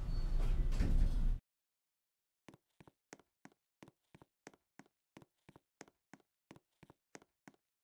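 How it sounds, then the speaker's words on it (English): In a Roblox mall lift, a burst of broadband noise cuts off abruptly, followed by a long run of sharp, evenly spaced clicks and taps of the closing elevator doors, crisp and close with no talk. "Doors closing."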